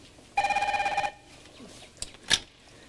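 A telephone bell rings in one sharp trilling burst, followed by faint rustles and a brief voice.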